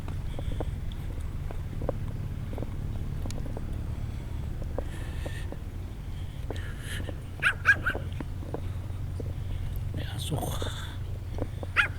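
A dog barks outdoors at a windy seaside near a boat harbour, a few sharp barks and whimpers at mid distance over steady wind rumble, with quiet voices nearby.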